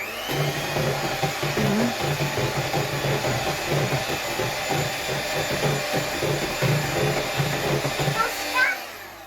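An electric mixer whisks a batter in a home kitchen with a continuous whirring motor drone, steady and close, running for several seconds before cutting off near the end.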